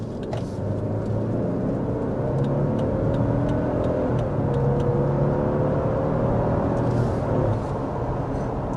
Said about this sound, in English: quickly up to 60 miles per hour in the 2024 Lexus LX 600